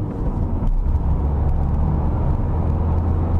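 A 2017 Opel Crossland X diesel accelerating at full throttle from second gear, a dense, steady engine drone and road rumble heard from inside the cabin, loud and unbroken throughout.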